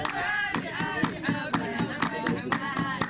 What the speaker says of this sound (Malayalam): സായിപ്പുമാർ കൈയടിച്ച് പ്രോത്സാഹിപ്പിക്കുന്നു.